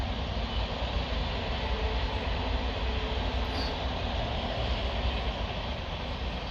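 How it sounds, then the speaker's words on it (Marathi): A train rumbles past near a grape farm and vegetable plots, a loud, steady low roar that stays constant throughout with no talk over it. "तुम्हाला रेल्वेचा आवाज वगैरे येत असेल."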